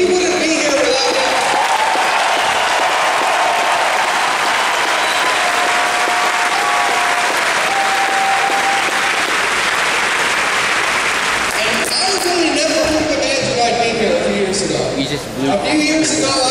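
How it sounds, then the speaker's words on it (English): Sustained, loud applause from a crowd at a political liberty rally, dense clapping with a few cheers that carries on for many seconds before a voice starts speaking over the fading claps. "I think he deserves a round of applause"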